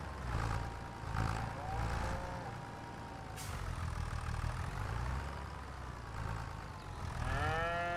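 Cows moo repeatedly in the farming video game Farming Simulator 25, their drawn-out calls rising over a steady engine idle and farm machinery rumble that runs through the whole stretch.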